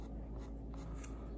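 A pencil scratches across a coffee stirrer stick while marking an angled cut line for a diagonal bar on a model Peninsular War house, giving a steady, close dry scraping with soft strokes over about a second and a half.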